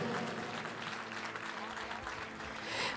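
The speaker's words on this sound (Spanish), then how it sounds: "Están aplaudiendo la mitad de la iglesia." Half of a church congregation applauds during a sermon, a dense, steady wash of clapping that fills the whole stretch at moderate distance.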